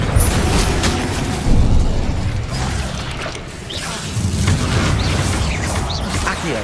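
An Incendio fire spell is cast over and over in Hogwarts Legacy, each cast a whooshing burst with a muffled boom under a dense, continuous bed of game effects and rumble.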